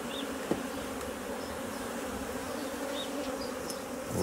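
Honeybees drone in a steady, dense buzz throughout an open beehive inspection, close and continuous, with a few brief clicks and knocks from the hive equipment and no talk.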